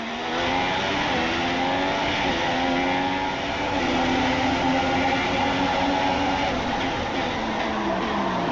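Formula 1 race cars at Monaco in 2016 give a continuous, loud, high-revving engine whine with rising and falling pitch sweeps, heard up close without talk.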